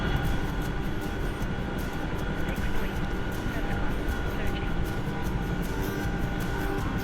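Chinook helicopter engine and rotor drone in the DCS flight simulator game, a loud, continuous, even roar with no letup.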